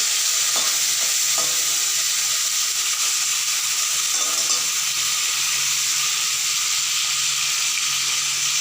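Hilsa fish bones frying in hot oil, a loud continuous hiss and crackle with a few faint clinks of a utensil early on, steady throughout with no talking.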